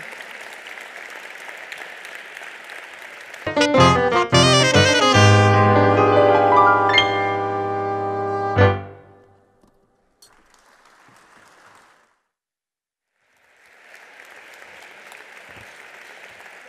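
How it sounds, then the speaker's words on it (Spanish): An audience at an award ceremony for self-employed workers in Navarra bursts into loud, dense applause that lasts several seconds and then cuts off. After a pause, fainter scattered clapping returns, mixed with a sustained musical tone. "por favor un aplauso para todas las personas que acaban de recibir ese reconocimiento"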